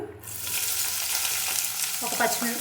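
Two medium onions fry in hot oil with fenugreek seeds, green chillies and curry leaves for taro root curry, a brief loud sizzle with stirring scrapes, close up.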